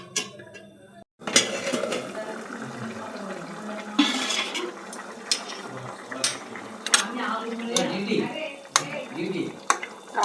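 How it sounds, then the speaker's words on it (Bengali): Metal cookware clatters as a lid is set over a cooking pot, with several sharp clanks and scrapes above low stirring and kitchen noise, heard up close. "এবার ঢেকে দেবো।"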